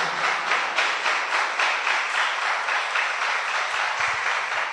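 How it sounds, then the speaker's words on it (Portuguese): Church congregation applauding during a Portuguese-language worship service, a steady continuous wash of many hands clapping with a faint regular pulse, moderately loud and without speech. "Você pode aplaudir a Jesus, a Ele toda a honra, toda a glória e todo o louvor."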